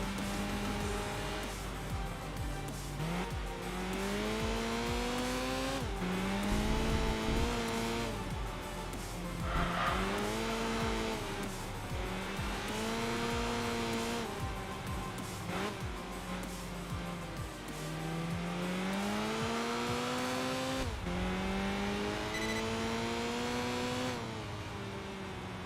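Race car engine in the Enthusia Professional Racing video game, driven hard: a loud continuous roar repeatedly rising and falling through gear changes, with tire squeal and skidding layered over it throughout.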